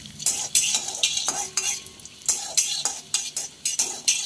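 Shelled peanuts fried and stirred in a pan: a rapid series of rhythmic scraping, rattling strokes over a light sizzle, close and fairly loud, with no voices.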